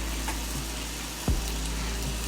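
Onions go into a pan of frying bacon, giving a steady, close sizzle with a soft thump and crackle as they land.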